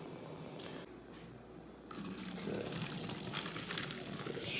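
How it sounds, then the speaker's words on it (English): Cooked noodles being drained, with water pouring out in a steady rushing stream that grows louder and fuller partway through, splashing and gurgling into a sink. "Drain those noodles."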